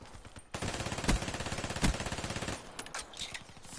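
Rapid automatic gunfire from a video game, a loud close burst of evenly spaced shots lasting about two seconds with a couple of heavier bangs, then scattered quieter shots.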